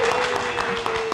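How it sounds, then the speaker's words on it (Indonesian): Applause from a live talk-show audience, dense steady clapping running close and continuous through the whole brief moment, with no talk over it. "tepuk tangan"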